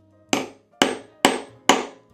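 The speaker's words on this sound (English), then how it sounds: "now you're gonna grab your hammer and you're only gonna hammer a little bit" Four firm, evenly spaced hammer taps on a grommet setter driven into leather, close and crisp, each blow ringing briefly before the next, with no voices.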